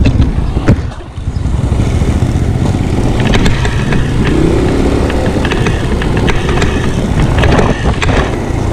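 Motorcycle engine running loud and close during a ride to a barangay fiesta, a continuous rumbling drone buffeted by heavy wind noise.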